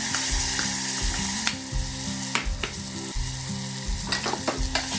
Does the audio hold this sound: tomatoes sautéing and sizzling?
yes